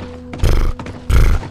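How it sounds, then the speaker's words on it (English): A horse in The Last of Us video game snorts and blows in two short, loud bursts close by, with rough breathy grunts rather than a long whinny. "That's what the horses sound like."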